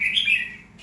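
A caged red-whiskered bulbul (chào mào) gives a short, bright chirping call, close and clear, with a brief pause before a softer final note.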